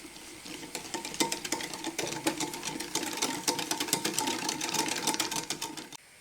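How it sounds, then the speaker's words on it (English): A whisk beating egg yolks for a vanilla custard in a bowl, a rapid steady clatter of metal against the bowl, close and continuous for several seconds before it stops. "Mix everything really good with a whisk."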